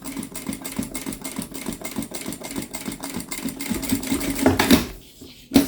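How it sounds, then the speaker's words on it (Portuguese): Sewing machine running steadily as it stitches fabric around the edge of a thread-holder zip pouch, a close, even mechanical chatter that slows and stops near the end. "Então a gente vai passando a costura em toda a volta."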